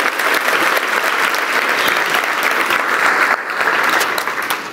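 Church congregation breaking into loud, sustained applause during a sermon, a dense roar of many hands clapping close and strong, with a brief dip midway before the clapping carries on and slowly eases.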